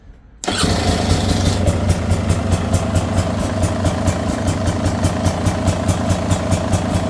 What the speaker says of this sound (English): Let's just start the bike up here